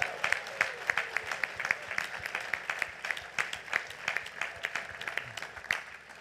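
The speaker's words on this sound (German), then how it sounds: "Also erstmal herzlichen Applaus an euch." An audience at a political rally in Hannover applauds, with individual claps standing out sharply in a lively, uneven stretch of clapping that runs throughout.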